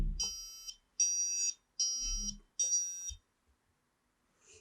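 Pinoo water level sensor buzzer in a dam control project sounding four steady high-pitched beeps, each lasting about half a second with short gaps, loud and clear over faint handling noise.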